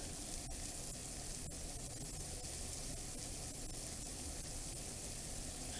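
Pork chops sauté in a pan, giving off a faint, steady sizzle that holds evenly throughout with no other sounds.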